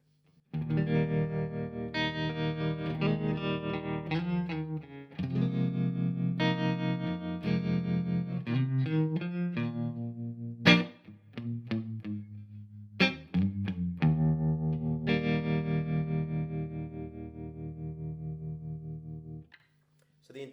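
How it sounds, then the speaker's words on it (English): Electric guitar chords played through a Brookfield tube amplifier with the tremolo intensity pushed to the extreme, giving a loud, heavy, pulsing wobble on sustained notes across several chord changes, with no voice. "move on to the tremolo, where you have an intensity and speed"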